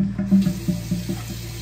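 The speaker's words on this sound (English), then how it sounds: "just wet your face a little bit. Cold water, do not use hot water." Cold water runs from a bathroom sink tap in a steady splashing stream, with small irregular spatters as it hits the basin, close and moderately loud.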